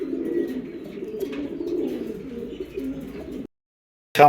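A male racing pigeon coos close up in low, rolling bursts for about three seconds, then falls silent before a short sharp noise at the end.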